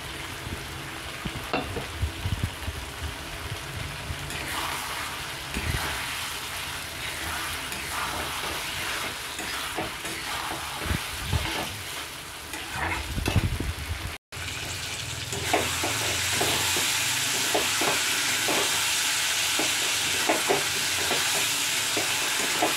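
Prawn curry sautéing in a pan with fried prawns added, a steady loud sizzle with stirring scrapes and bursts of spattering throughout, growing brighter and fiercer in the second half.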